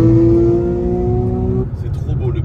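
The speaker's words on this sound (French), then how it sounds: "C'est trop beau, le bruit est incroyable, la voiture est folle." A Porsche GT3 sports car engine revs hard and loud for a second and a half, a strong steady high-pitched tone, then drops abruptly into a lower, rumbling idle.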